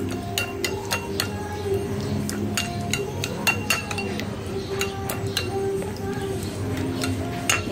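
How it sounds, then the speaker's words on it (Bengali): Sour curd is whisked in a bowl, giving a quick run of light metallic clinks and taps against the bowl over a steady background hum, close and moderately loud. "এই তো এটাকে ভালোভাবে ফেটে নিচ্ছি।"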